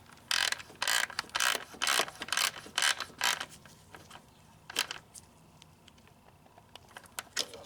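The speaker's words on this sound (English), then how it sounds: "then we'll tighten this bolt down and get it plugged back in" A ratchet tightens a 10 mm bolt on a plastic EVAP fitting of a 2015 Chevy Camaro 3.6L V6, giving bursts of close, crisp clicking in quick repeated strokes that thin out to a few sparse clicks.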